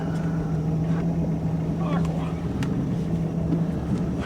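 A 1973 Cobalt boat with a Mercruiser 165hp engine runs at low RPM, giving a steady, close, continuous motor drone with a constant hum through the whole stretch.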